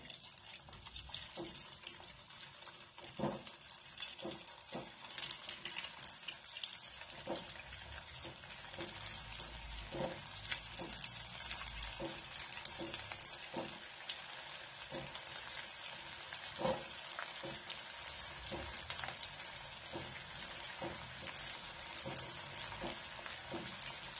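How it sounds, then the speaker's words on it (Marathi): Mini samosas fry in hot oil, giving a steady bubbling sizzle throughout with repeated soft taps and clicks from stirring or turning. "आता त्याच्यामध्ये आपण हे सोडून घेऊ, तळून घेऊ."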